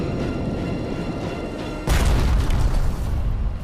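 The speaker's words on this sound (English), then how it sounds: "He fires a spread of 6 torpedoes." Torpedo detonations from a spread of six torpedoes fired by the submarine USS Tang at a night convoy: a low rumbling background suddenly breaks into a loud, deep boom that rolls on heavily for over a second.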